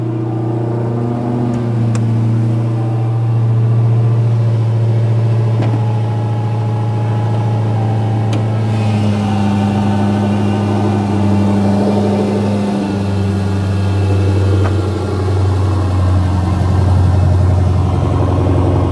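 A car engine runs with the hood open, a steady close idle that shifts pitch partway through as the revs rise and settle, continuous and fairly loud throughout.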